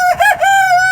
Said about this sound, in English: I think he's getting ready to crow again.